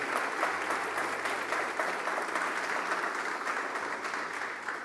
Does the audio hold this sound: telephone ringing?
no